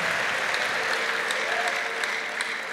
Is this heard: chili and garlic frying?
no